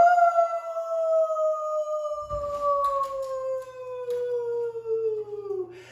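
A human voice imitates a wolf with one sustained howl that gradually drops in pitch, while brief rustling and a low hum sit faintly underneath.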